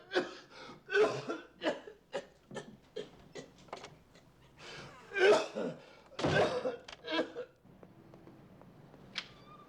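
Repeated harsh coughing from a smoker, a string of short rough bursts close by and fairly loud, with throat clearing and a brief gasp between fits.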